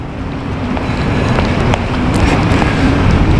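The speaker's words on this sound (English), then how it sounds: "it is a bit windy and rainy" Steady wind buffeting the microphone outdoors aboard a ferry in wind and rain, a continuous low rumble with occasional faint ticks, fairly loud and without voices.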